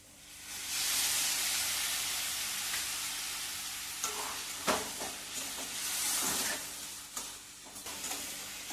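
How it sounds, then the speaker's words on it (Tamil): Coconut burfi mixture of grated coconut and milk sizzles in a pan while being stirred, a steady close hiss broken by scraping strokes of the spoon and soft bubbling. "அடி பிடிக்காம நல்லா கிண்டி எடுத்துக்கலாம்."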